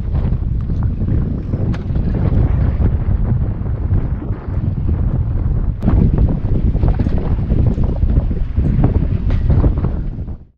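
Hurricane-force wind roars over a sailboat in a marina, a loud continuous buffeting rush with harsh gusts and microphone wind blasts throughout, swelling and easing slightly before fading at the end.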